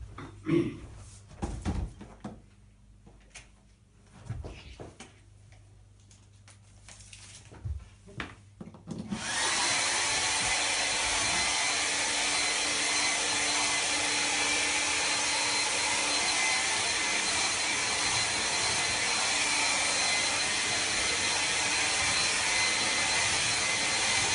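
After several seconds of scattered clicks and handling noises, a hair dryer switches on abruptly and roars loud and steady, a continuous broadband whoosh drying a watercolor painting of distant trees until the end.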